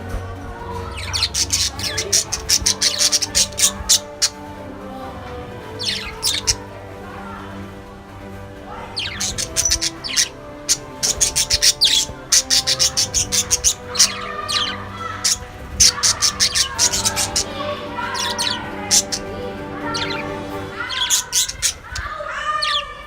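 Budgerigars kept as a pair or small group chirp, chatter and squawk in bursts, loud and close, with sharp repeated calls and quieter warbling between.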